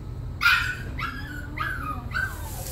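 Puppies on an Amish farm give four sharp, high yips spaced about half a second apart, nearby and fairly loud over a low background hum.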